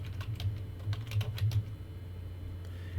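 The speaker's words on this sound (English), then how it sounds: "we'll just type it in" Computer keyboard typing in quick bursts of clicks, close and moderately loud, settling into a pause near the end, with no speech.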